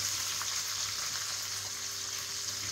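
Steady, close sizzle of country chicken sautéing in a pan until brown for a Chettinad dish, a continuous broad frying hiss with no pauses and no voices.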